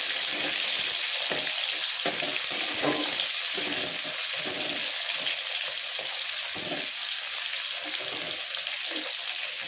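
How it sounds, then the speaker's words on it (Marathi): Onion fries in oil in a pan with a continuous, fairly loud crackling sizzle that stays even throughout, with no voices. "आपला कांदा थोडासा फ्राय झालाय, जास्त फ्राय नाही करायचा, थोडासा करायचा।"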